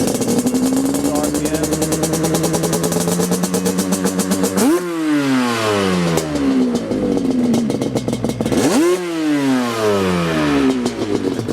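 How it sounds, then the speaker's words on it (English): A Yamaha Banshee two-stroke engine, freshly built and running poorly tuned, revs up and falls back twice, with a steady loud idle between the climbs and drops. "So we'll rev it up."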